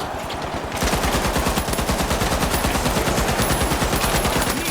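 Rapid automatic gunfire from a first-person shooter game, The Finals, rattles loudly and continuously after a short pause, each shot in a fast even rhythm, close and dominant with no talking.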